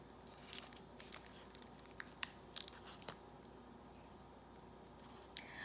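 Cut vinyl letters are peeled away from their backing paper by hand. Soft crinkles, small tearing rasps and a few sharp ticks come irregularly over a quiet background with no voices.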